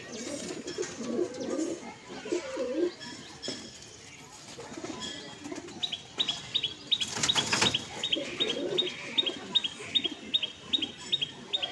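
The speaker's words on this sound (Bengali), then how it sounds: "এইটা নর পায়রা" A male pigeon coos in repeated low bursts close by, with thin chirps and faint rustling around it.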